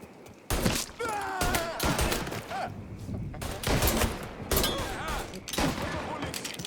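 Heavy shotgun and gun blasts in a Mafia III firefight, a rapid string of loud, close booming shots with short gaps and overlapping bursts, while voices shout in the background.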